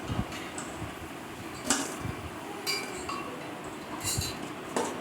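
Metal utensils clink faintly against a dish while fried vegetable pakoras are lifted out one by one, with a few scattered sharp taps over a low background hiss.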